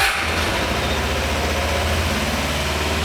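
A four-cylinder motorcycle engine running at a steady idle after starting on choke, loud and close, with a continuous low rumble and no change in pace.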